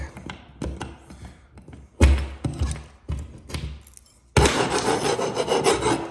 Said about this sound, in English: scrape off that extra, whatever that is